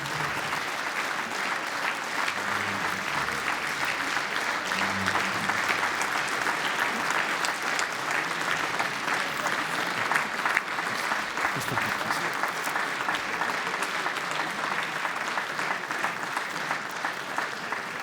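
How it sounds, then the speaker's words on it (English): Sustained audience applause at a European Athletics awards ceremony, steady dense clapping throughout with a faint crowd murmur and a brief low voice early on. "Keep your applause coming, ladies and gentlemen."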